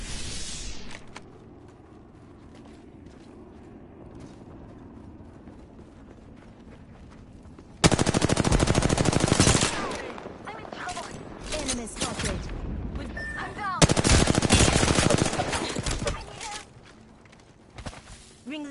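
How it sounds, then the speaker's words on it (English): Gunfire in Apex Legends, with two loud, sudden bursts of rapid shots standing out against quieter game ambience and scattered movement noise. "Listen up, I'm getting shot at."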